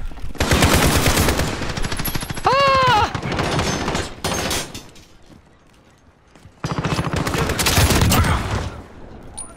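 Rapid automatic gunfire from a first-person shooter video game, loud dense bursts filling most of the stretch with a brief quieter gap before firing resumes.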